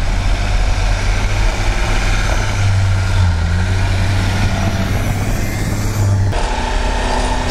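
An Isuzu Rodeo 4x4 rumbles steadily through snow, its engine a constant low, loud drone from inside the cabin, with a brief change in tone near the end and no speech.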